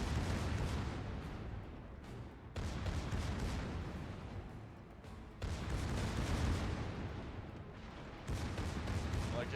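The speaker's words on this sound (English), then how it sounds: "your secondaries are absolutely just shredding that Pommern" Bismarck secondary guns firing at a Pommern in World of Warships: dense rumbling salvos and booming blasts rolling almost continuously, with brief gaps between volleys, loud and low-heavy.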